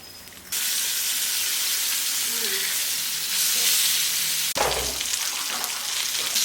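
Chicken frying in hot oil gives a loud, steady sizzle close by that starts abruptly, crackles continuously and surges again after a brief break near the end.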